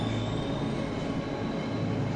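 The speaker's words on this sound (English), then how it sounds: "Oh, here we go, a train." A train in the horror video game Cry of Fear rumbles steadily and loudly, a dense continuous low roar with no gaps.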